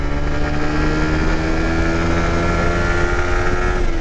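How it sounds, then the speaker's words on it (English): A motorcycle is ridden with its engine droning loudly and steadily at a constant pitch, close to the microphone and mixed with wind rush, and no one speaks. "I'm seriously starting to fall in love with this motorcycle."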